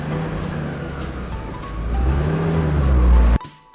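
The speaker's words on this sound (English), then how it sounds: "He started his car." A car starts and drives off, with a steady engine roar that builds louder over a few seconds, then cuts off abruptly.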